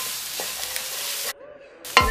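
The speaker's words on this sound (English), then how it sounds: "After a minute, add in the garlic, stir to mix well," Garlic stir-fries in a hot pan for a Taiwanese braised pork belly dish, giving a brief bright sizzle that cuts to near silence, followed by a single hard knock of a utensil on the pan.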